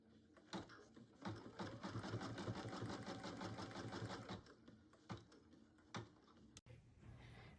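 An embroidery machine stitches the tack-down outline of an in-the-hoop stuffed bear pattern, a rapid steady needle chatter for about four seconds, then a few separate clicks and thumps, close and quiet.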